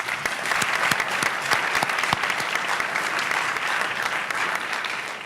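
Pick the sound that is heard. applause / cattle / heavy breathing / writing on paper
applause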